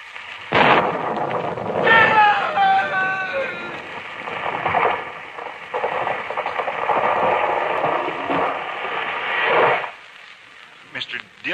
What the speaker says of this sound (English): It was lightning. It struck the tree.